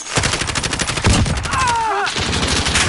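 Rapid automatic gunfire in a video game, a loud dense burst of repeated shots with a brief whistling tone partway through.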